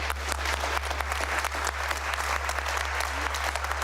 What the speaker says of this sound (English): Why are you clapping that absolute non-entity of an answer?